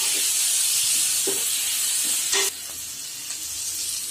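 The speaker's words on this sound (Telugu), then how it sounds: "వేయించుకోవాలి" Ginger garlic paste with a little turmeric powder fries in a pan, giving a steady, close, broad sizzling hiss that drops a little in loudness partway through, with a few faint clinks and no talking.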